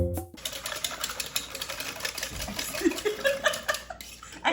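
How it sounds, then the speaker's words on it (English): A whisk beats gluten-free quiche filling in a bowl, giving a rapid, steady clatter of metal against the bowl sides that runs continuously and fairly close. "go ahead and whisk that all together"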